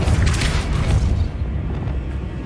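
The Depulso spell in Hogwarts Legacy, a video game, lets out a dense, rumbling magical burst with a low boom that swells at first and then settles into a softer, fading rumble over a couple of seconds.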